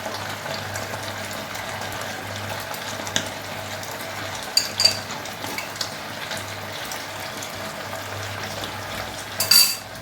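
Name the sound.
chicken pieces added to simmering chili chicken in pan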